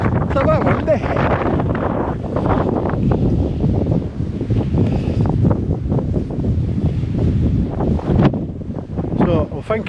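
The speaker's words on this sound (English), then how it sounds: "It's a bit windy." Gusty wind buffeting the microphone at the Birkbridge Millennium Sundial on Cannock Chase, a loud continuous rumble that swells and dips throughout, with brief voices near the end.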